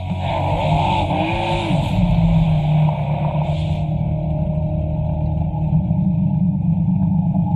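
A drag race car launches hard off the line, smoking its tires, with a loud sustained engine roar and tire squeal running steadily throughout, close and without talk.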